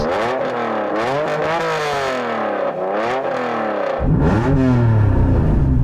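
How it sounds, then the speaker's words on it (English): A Honda NSX engine revs several times, rising and falling in pitch close by, then a deeper, louder rev surges near the end. "I'm going to rev up this Honda NSX."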